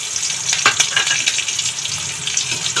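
Nigella seeds and slit green chillies crackling in hot oil in a pan, a continuous bright sizzle with scattered sharp pops, close and fairly loud.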